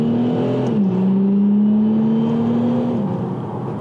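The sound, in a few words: Audi A5 3.0 TDI quattro accelerating hard from a standstill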